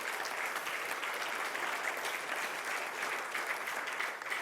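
A church congregation claps together in a strong, steady round of applause, dense and even throughout with no voices over it.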